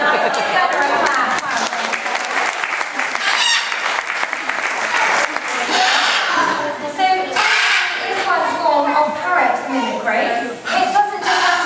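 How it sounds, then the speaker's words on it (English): Audience clapping for a parrot at a Longleat parrot show, a dense, steady applause running throughout alongside bird calls and squawks, with a presenter's voice mixed in. "Give Gunner a clap."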